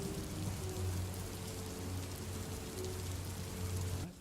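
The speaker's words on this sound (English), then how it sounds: "Let me get rid of the rain." Steady rain falls on a surface in a tabletop fantasy adventure scene, a dense continuous hiss with a faint low hum beneath it, fairly loud and even throughout, cutting off abruptly just before the end.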